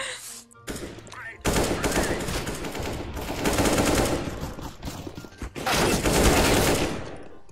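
Rapid automatic gunfire in the shooter CS:GO, loud bursts of close shots with short pauses between them, and a voice talking over part of it.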